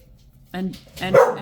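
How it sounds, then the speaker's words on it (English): Several dogs bark nearby in a short burst, two or three quick barks over faint background noise, audible behind a speaker's talk. "I am so sorry about the dogs"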